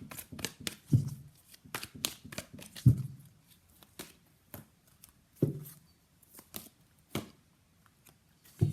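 Tarot cards are shuffled and drawn from the deck, giving sharp riffling flutters and crisp slaps in uneven bursts, close and fairly quiet with brief pauses between.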